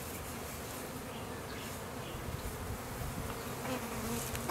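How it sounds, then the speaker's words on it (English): Honey bees from a package swarm around a hive being installed, a steady dense close buzz filling the scene without pause, swelling slightly louder toward the end. "you're going to have bees on the brush and everything."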